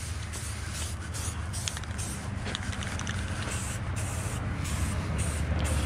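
A spray paint can hisses in a steady, continuous, loud spray, with a low rumble underneath and brief pauses in the hiss, no talking.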